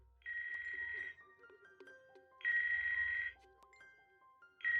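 A cartoon telephone rings in two clear bursts about two seconds apart, with a third starting at the end. It is muffled and moderately loud, with quiet background noises between rings.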